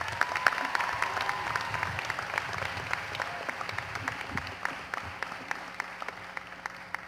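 An audience fills a university commencement ceremony with sustained applause for award recipients, a dense crackle of many hands clapping that holds steady and slowly fades, with no speech over it.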